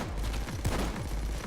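Gunfire in the video game Payday 2, a dense run of overlapping shots forming a steady barrage with one louder burst in the middle, heard alone without talk.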